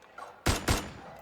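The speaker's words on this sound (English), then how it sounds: "Suddenly, several gunshots ring out, piercing my eardrums." Gunfire in the video game Love and Deepspace: three sharp, loud shots crack out at uneven intervals, each a sudden broadband burst with a short decay, no voices over them.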